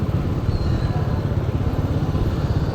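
A motorcycle engine drones steadily nearby at a night market in Tagum City, with a low, even rumble throughout and no voices.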